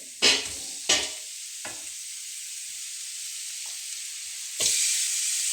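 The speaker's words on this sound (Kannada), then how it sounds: "ಈಗ ಇದಕ್ಕೆ ನಾನು ಮಟನ್ ಆ್ಯಡ್ ಮಾಡ್ತಾ ಇದ್ದೀನಿ." Mutton, 1.5 kilograms of it, going into a pan of cooked greens and pepper for a military-hotel style green mutton chops dish, giving a few sharp stirring scrapes and bursts of sizzle over a low steady frying hiss, no voices.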